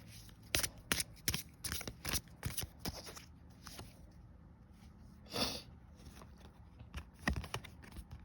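A deck of tarot cards riffled and shuffled by hand, a run of sharp rhythmic flicks and riffs followed by a pause and a softer slide and another brief riffle, close and clear without talk.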